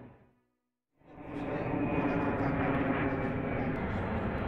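An airplane landing at Amsterdam, heard as a steady, loud broadband engine and airflow roar that starts abruptly after a second of near silence and holds constant to the end.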